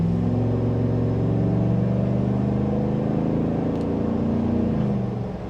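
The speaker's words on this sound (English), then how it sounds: "Here's a small acceleration." Engine of a 2025 GMC Sierra AT4X heavy pickup truck accelerating in sport mode, a loud steady low drone rising gently in pitch and then easing off near the end, heard continuously with no talk.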